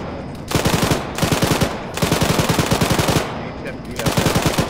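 Automatic weapons fire from infantry in the Arma 3 military video game, several long rapid bursts of close, loud shots separated by short pauses.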